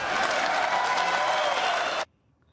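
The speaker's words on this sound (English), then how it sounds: "That applause went on for quite a while." Dense, loud audience applause at a political event where President Trump speaks about growing an industry, sustained and then cutting off abruptly into near silence.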